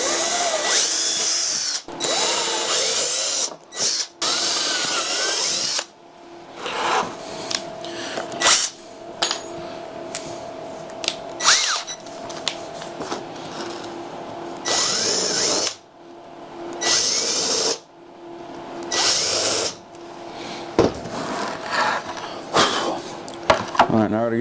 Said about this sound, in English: I'm going to drill a hole in the top of my outfeed table.